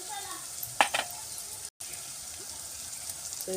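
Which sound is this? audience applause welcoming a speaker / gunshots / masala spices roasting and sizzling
masala spices roasting and sizzling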